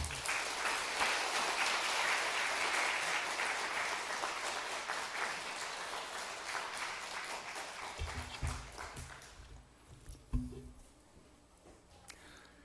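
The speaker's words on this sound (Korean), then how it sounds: "우리 목사님 나오실 때 큰 박수로 환영해 주시기 바랍니다" A church congregation at a Sunday service gives loud, sustained applause to welcome the pastor, a dense rush of clapping that gradually tapers away, leaving a few thumps and quieter room sounds.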